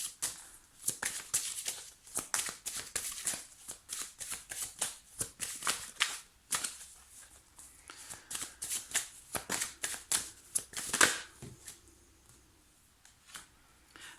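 Tarot cards are handled and laid out close by: irregular bursts of crisp card slaps and shuffling rustles, some louder snaps, with quiet pauses between and no talking.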